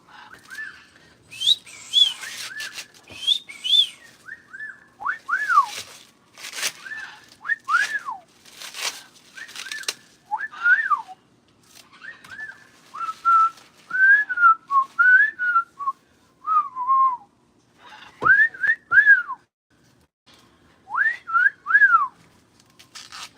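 Repeated bird whistling calls, loud and close, come in short rising-and-falling phrases with brief pauses throughout, alongside occasional clicks and knocks at an exotic animal rescue.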